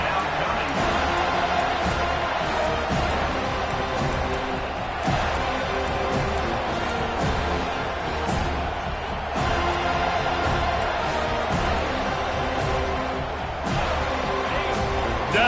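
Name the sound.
stadium crowd cheering in football video game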